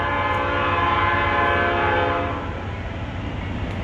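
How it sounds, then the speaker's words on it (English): A morning train passes through Hot Springs beside a spa, its whistle sounding long and steady over a loud rumbling rail roar that fades slightly toward the end. "Probably you can hear the whistle."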